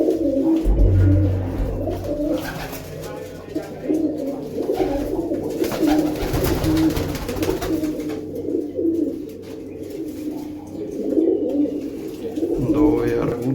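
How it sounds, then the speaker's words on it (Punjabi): Pigeons coo repeatedly in low, throaty bursts at close range, with other birds and background voices mixed in throughout. "ਕਬੂਤਰ"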